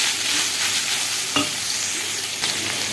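Chicken sizzling in a frying pan, a bright steady sizzle with a couple of brief stirring scrapes, close and alone without talk.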